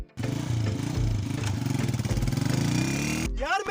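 A motorcycle engine revs and pulses loudly close by as the bike pulls away, a rapid throbbing drone that cuts off near the end and gives way to a brief whooshing sweep.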